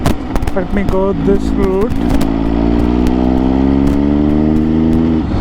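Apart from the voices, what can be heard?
loud exhaust of an MV Agusta motorcycle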